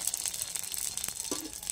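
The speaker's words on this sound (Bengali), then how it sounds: "আমি দেখো সকাল সকাল ফুচকা ভাজতে চলে এসেছি।" Fuchka (puchka) puris fry in hot oil with a bright, crackling sizzle and faint rattling ticks, fairly quiet and close, with no talking.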